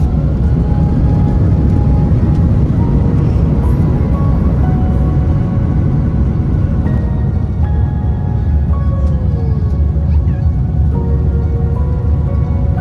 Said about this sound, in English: From the first rumble of takeoff